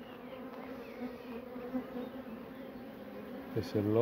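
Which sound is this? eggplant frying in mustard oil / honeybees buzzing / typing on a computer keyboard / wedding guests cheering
honeybees buzzing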